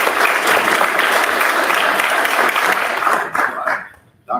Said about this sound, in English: let's give another round of applause to Mr. Rogers.